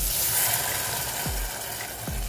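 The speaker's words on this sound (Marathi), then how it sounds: "आता 1-4 सेकंद गॅस हाय फ्लेमवर करायचा आणि डाळ टाकून घ्यायची, म्हणजे डाळीला चांगली चरचरीत फोडणी बसते" Dal tipped into a hot Maharashtrian tempering (phodni) on a high gas flame sets off a steady, loud, hissing sizzle, with a couple of soft low thuds in the pan.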